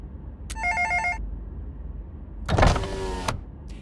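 Within the Road 96 video game, a telephone trills in a short electronic ring burst, then a louder rumbling, clattering vehicle noise swells over a steady engine hum, with no talking.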